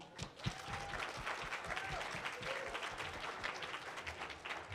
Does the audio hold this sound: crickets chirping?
no